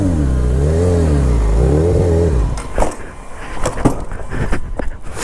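A motorcycle engine revs and bogs down with a wavering, uneven tone, followed by clanks and knocks close by, with no talking.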